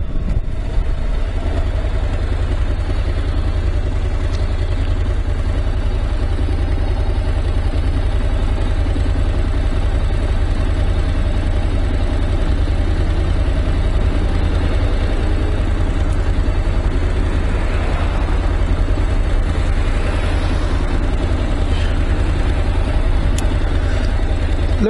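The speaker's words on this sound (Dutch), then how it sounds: "Leuke motor, superleuke motor, fijne motor, Honda." A Honda NC 700 motorcycle engine runs steadily at a low, throbbing idle, close and continuous for the whole stretch with faint mechanical clatter and no speech.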